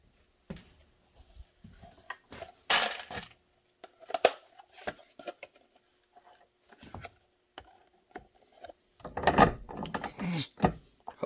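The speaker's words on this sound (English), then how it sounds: "Now go ahead and add all your rivets." Rivets being set on a coyote brown carbon fiber OWB holster for an FN 509 Tactical, sharp intermittent clicks, snaps and taps at close range, separated by quiet pauses, with a burst of louder clatter near the end.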